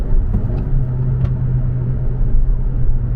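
A 2017 Honda Civic Hatchback with a turbo engine accelerating while driving, heard from inside as a loud, steady low engine drone and road rumble that builds slightly, with no talking.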